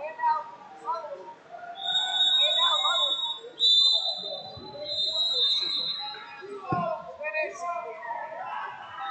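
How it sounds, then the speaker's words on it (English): Referee's whistle at a college wrestling bout, shrill tones sounding twice in sustained blasts, heard over ongoing voices and arena chatter. "Blow the whistle."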